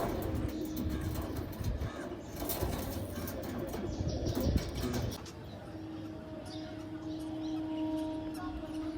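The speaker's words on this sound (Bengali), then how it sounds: "তো চলো, একে একে পায়রা দেখাচ্ছি, সব পায়রা দেখতে থাকো।" Pigeons coo softly at a pigeon sale in Ichapur, West Bengal, with low repeated calls, some rustling and fluttering early on, and faint traffic in the background.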